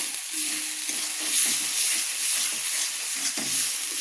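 Potato and green chillies fry with turmeric, salt and spices in a pan, giving a continuous close hissing sizzle with faint stirring sounds underneath.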